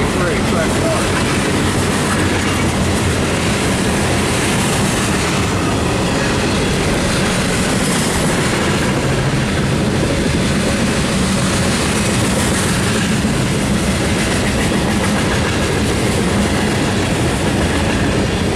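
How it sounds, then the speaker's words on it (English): A Norfolk Southern freight train hauled by four locomotives rolls past, a continuous loud roar of wheels and rumbling cars with rhythmic clickety-clack and faint wheel squeal throughout, very close, with a voice occasionally talking over it. "There's four NS engines on us."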